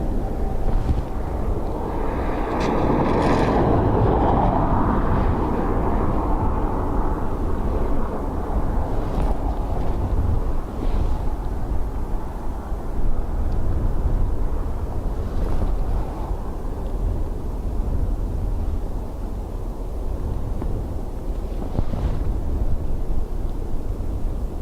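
Strong wind at Dublin Airport roars and buffets continuously, with rumbling gusts. A distant aircraft or engine rumble is faintly mixed in.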